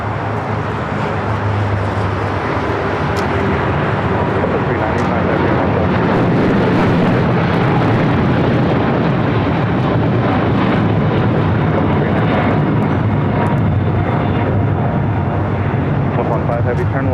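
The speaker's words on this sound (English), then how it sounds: "We also have All Nippon Airways Flight 5 rolling on 25 right" An All Nippon Airways jet rolls for takeoff on runway 25 right at LAX, a loud, sustained engine roar filling the whole span as voices speak over it.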